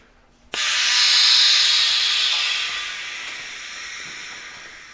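Compressed air rushes through a just-opened valve while working on a truck hub upgrade, starting abruptly as a loud, steady hiss that slowly eases but keeps going to the end.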